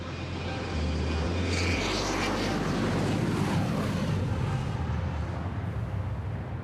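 A large fixed-wing airplane on the runway at a major airport during takeoff or landing, a loud sustained engine roar with broad rushing noise that holds strong then slowly eases.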